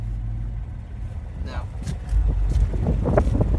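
Heard from inside a Chevrolet in sport mode, a low, deep exhaust rumble builds from a soft idle to a louder, throatier drone, with a brief voice partway through.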